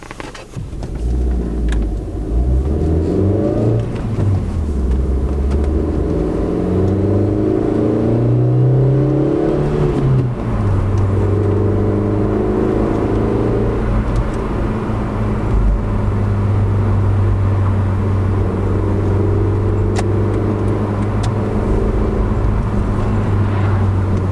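A Suzuki SX4, used as a daily driver, heard from inside while driving, its engine rising and falling through gear changes and acceleration, with a steady low drone and road noise continuing throughout, no talking.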